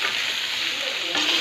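Onions sizzle in a hot pan with soybean chunks while a spoon stirs them, a continuous bright hiss with soft scraping, close and fairly loud, brightening slightly near the end.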